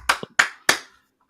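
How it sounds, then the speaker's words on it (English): Three sharp, separate hand claps close by, spaced evenly, followed by a short silence, a small handful of people giving a brief round of applause. "let's give him a round of applause, boys"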